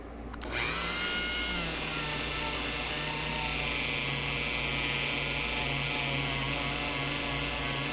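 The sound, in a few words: Dremel buffing wheel polishing guitar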